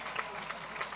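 An audience at the Jamaica Civil Service Long Service Awards 2023 keeps applauding a band, a brief patch of steady clapping with a voice speaking over it.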